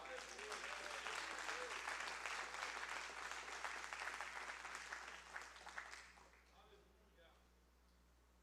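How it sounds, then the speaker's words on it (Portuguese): Church congregation applauding during a Portuguese-language sermon: sustained, dense clapping from many hands that holds steady for about six seconds, then fades quickly to a quiet room. "dá um aplauso ao Senhor."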